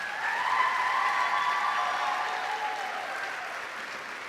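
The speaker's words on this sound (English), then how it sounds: "Let's give these ladies a nice round of applause." An audience applauds the top salespeople of the 2014 Miss Hudson Pageant: steady, full clapping from a crowd, with sustained whistle-like tones gliding over it, fading slightly toward the end.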